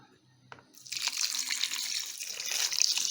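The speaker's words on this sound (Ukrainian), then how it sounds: "всипаю нашу сіль і виливаю воду" Water pours from a container into a pot of salt brine for pickling cucumbers, a splashing, gurgling stream that starts abruptly after a quiet moment and runs on steadily, close by.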